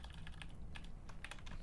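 Quick, light keystrokes on a computer keyboard, an irregular run of soft clicks at close range with no talking, over a faint steady room background.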